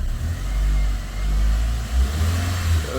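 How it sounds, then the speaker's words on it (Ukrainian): A Skoda Octavia Tour 1.6 BFQ petrol engine with an overheating fault is revved from idle in a steady rising drone, eases briefly, then revs again. It is close, loud and has no talk over it. "дамо обертів"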